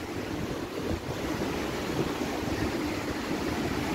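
A mountain river in Pas de la Casa, Andorra, rushes steadily beside a wooden walkway, a continuous broad wash of flowing water with some wind, with no voices.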